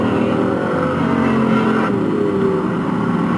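A race car engine roars steadily on a track during a heat race, loud and continuous with a sustained droning tone that shifts slightly in pitch as it passes, with no talk over it.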